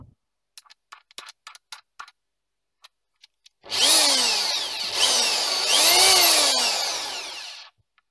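A cordless drill-driver rated at 800 rpm runs at full speed for about four seconds, a loud whining motor that winds up and holds steady, preceded by several sharp clicks and taps of handling.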